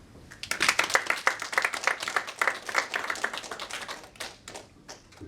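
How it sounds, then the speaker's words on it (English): Audience applause after a speech at a panel on Israeli-Palestinian relations, a burst of dense hand claps that swells quickly, holds, then thins out into scattered claps as it fades. "Let us give another round of applause for Professor for his speech"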